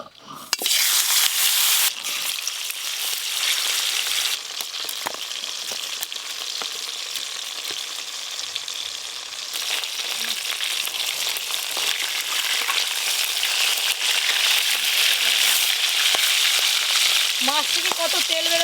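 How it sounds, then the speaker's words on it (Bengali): Fish fries in mustard oil in a wok, giving a loud, steady sizzle that crackles continuously and close by, with a few brief stirring clinks and no talking. "মাছগুলো খুব ভালো করে ভেজে নেব।"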